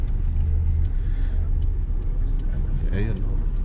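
A car driving off at night after a gas station stop on a trip to Dammam, a steady engine rumble throughout with a brief rev near the end, while voices talk faintly underneath.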